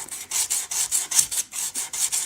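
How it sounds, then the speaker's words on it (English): Diamond file of 360 grit rasping back and forth across a guitar fret, about ten quick, even strokes, close and crisp with no talking. "here's a little diamond file. It's a 360 grit."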